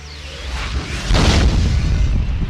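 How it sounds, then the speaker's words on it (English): The warp core of the starship Excalibur explodes in an audiobook sound effect, a loud rumbling boom that swells with a rushing blast about a second in, then rolls on as a heavy low roar. "The impact of the shockwave from the Excalibur's warp core explosion sent my pod tumbling end over end."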